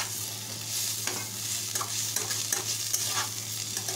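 Chopped tomato and onion frying in a pan for a boiled egg curry, stirred continuously: a steady close sizzle under rhythmic scraping and knocking of a spatula against the pan, with no voices.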